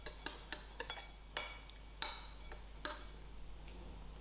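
A utensil stirs ground pistachios with cinnamon and clove in a bowl, giving light clinks and scrapes in an irregular rhythm, close and quiet with no voices.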